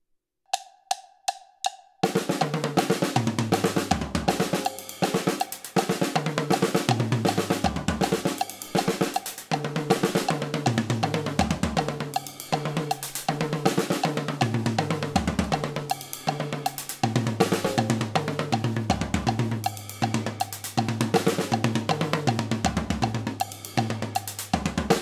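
A few soft clicks, then a full drum kit kicks in, playing a steady, busy groove of repeated strokes across drums and cymbals for over twenty seconds.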